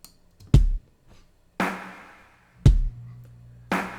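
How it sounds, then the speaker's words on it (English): Basic programmed pop drum beat in Logic Pro, kick on one and three and snare on two and four, four sharp hits alternating low thump and bright crack, dry and upfront. "I started with the most basic drum beat you can."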